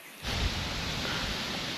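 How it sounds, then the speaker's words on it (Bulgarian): Strong gusting wind ahead of an approaching storm beside the Yantra river, a sudden loud roaring rush of air buffeting the microphone and staying steady, with no voices. "Задуха страхотен вятър."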